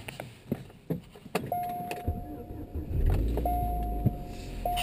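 Keys jangle in a Chevrolet Cobalt SS with a factory boost gauge, a dash chime tones, then the engine cranks and catches into a smooth, low, steady idle heard from inside the car.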